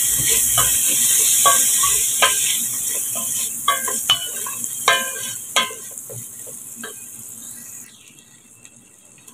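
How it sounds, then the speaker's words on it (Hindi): Finely chopped potato frying with spices in a pan for spinach-potato sabzi, a close, steady sizzle with several clear stirring scrapes, fading quieter near the end, with no voices. "आलूओं को तीन से चार मिनट मैंने भून लिया है"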